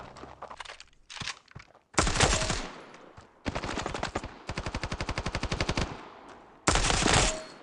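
Automatic gunfire rings out in the mobile shooter game Standoff 2, with scattered single shots giving way to loud, rapid sustained bursts separated by brief gaps, all close and dominant.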